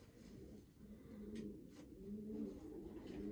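Soft, low pigeon cooing repeats steadily at a moderate distance, with a couple of faint sharp rustles or clicks partway through.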